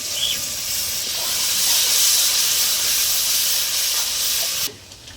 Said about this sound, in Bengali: পেঁয়াজ দিয়ে দিলাম, নাড়িয়ে নেব। পেঁয়াজগুলো ভাজা ভাজা করে নেব।